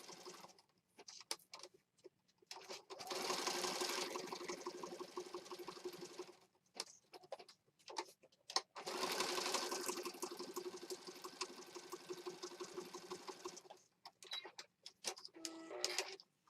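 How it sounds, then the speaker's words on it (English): A sewing machine stitches junk journal pages in short and long runs, a fast rhythmic mechanical whir broken by pauses and small clicks of handling, fairly faint and close. "I'm going to run out of thread. Hopefully not before I'm done sewing."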